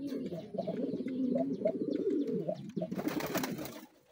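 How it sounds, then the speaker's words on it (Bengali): Domestic pigeons, including a young Sirazi (Lahore) pigeon, coo continuously in a loft, layered low throaty calls close by, with a burst of brighter rustling or flapping near the end. "সবগুলা কবুতর এখানে আছে, ডাকাডাকি করতেছে"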